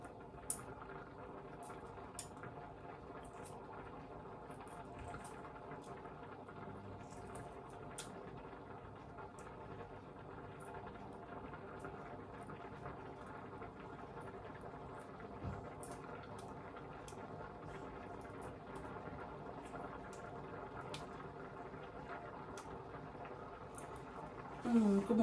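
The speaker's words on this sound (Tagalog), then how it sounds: "Kumukulo na siya." Lugaw rice porridge boils in a pot on a stove, a faint, steady bubbling and popping hiss with soft clicks throughout, low in level, with a louder clatter at the end.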